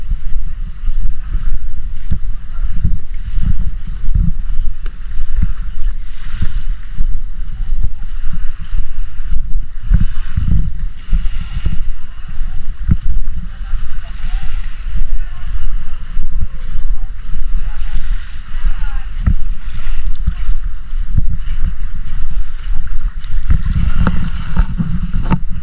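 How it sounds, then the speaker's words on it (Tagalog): An island-hopping boat moves across the sea off Boracay Island, a steady low engine rumble with wind and water noise throughout. "Ayan yung bangka namin."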